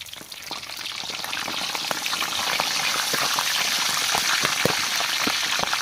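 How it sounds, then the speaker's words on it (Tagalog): Pork tail deep-frying in hot oil, a dense continuous sizzle with sharp pops and crackles scattered throughout, close and steady, with no talking. "So ngayon po babaliktarin ko na po yan. Ingat po kayo ha. Kasi pumuputok po ito."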